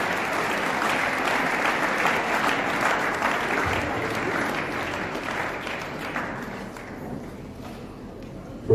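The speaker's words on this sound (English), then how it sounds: "Let's clap, let's clap," A church congregation claps steadily and densely at a Valentine special service in a chapel, a loud sustained wash of many hands that thins slightly toward the end, with no talk over it.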